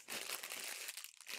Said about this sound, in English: You're going to put them into a resealable plastic bag. And this bag, you're going to burp most of the air out of it